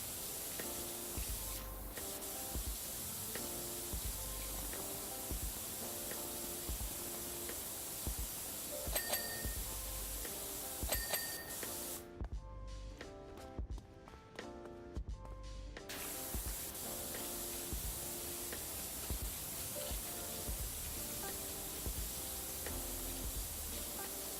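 Pressure washer spraying in the video game Powerwash Simulator 2: a steady, loud hiss of water jet running almost continuously, with a brief break partway through and faint clinks and chimes scattered over it.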